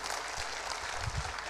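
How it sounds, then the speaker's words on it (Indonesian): Brief burst of audience clapping in a church sermon setting, soft and steady, somewhat distant, lasting only a moment. "Tepuk tangan untuk kebenaran ini."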